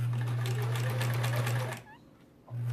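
A sewing machine stitches a quilt block in a steady, loud, close whir, pauses briefly, then starts running again.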